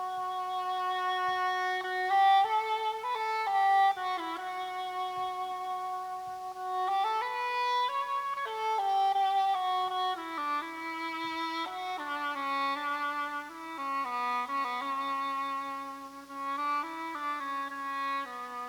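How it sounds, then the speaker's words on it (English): An excerpt of the Concierto de Aranjuez plays as sustained, melodic instrumental music with clear harmonic lines, moderately quiet and continuous for the whole stretch, with no talking over it. "you guys might have heard some of the Concerto de Aranjuez before"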